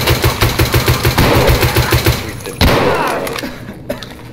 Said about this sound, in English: I just shot a scav at least 20 times with this stupid pistol